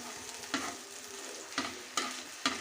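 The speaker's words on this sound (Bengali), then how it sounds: "আমি খুব ধীরে ধীরে ভেজে নিচ্ছি, আস্তে আস্তে নেড়ে চেড়ে সুন্দর করে ভেজে নিচ্ছি" Ridge gourd peel fries slowly in a kadai with a soft, quiet sizzle. Four distinct spatula stirs scrape through it at uneven intervals, with no voices.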